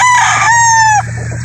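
A Boston sweater gamecock rooster crows once, loud and close, in a long harmonic call that breaks off near the end, with a steady low hum running underneath.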